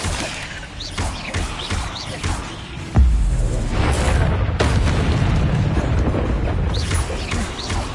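Fiery spell blasts in the Hogwarts Legacy video game: a sharp boom lands near the midpoint and is followed by a sustained loud rumbling roar, with whooshing effects and a voice calling out over the action.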